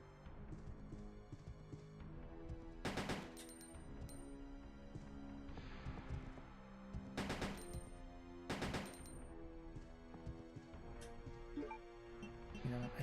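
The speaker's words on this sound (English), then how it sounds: "now I've got to shoot the monster" Gunfire aimed at a monster in Resident Evil 2 (1998), with several loud clustered bursts of shots among quieter in-game clatter and footsteps, spaced out over the clip.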